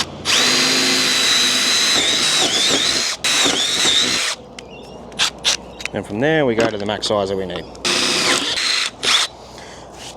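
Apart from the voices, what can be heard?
power drill drilling a hole for a service fuse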